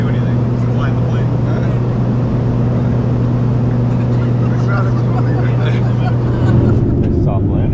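A steady, loud engine drone with a low hum fills the cabin of a small plane, and the engine note shifts near the end as it touches down at Pearl Island.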